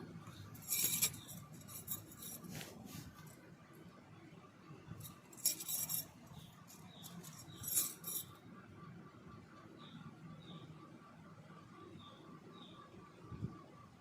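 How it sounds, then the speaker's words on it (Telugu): A spoon mixes drumstick pickle with a handful of garlic, making intermittent clinks and scrapes against the vessel with a few louder bursts over a quiet room background and no talking. "ఒకసారి మొత్తం కలుపుకుందాం ఇందులో ఒక గుప్పుడు వెల్లుల్లిపాయలు వేస్తున్నాను"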